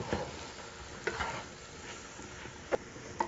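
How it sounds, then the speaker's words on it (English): Flour, about three-quarters of a cup, stirred into a pot for blue crab chowder: a soft, steady scraping and swishing with a few sharper knocks of the spoon against the pot, fairly quiet and with no talking. "Stir this up, get a good mix going with it."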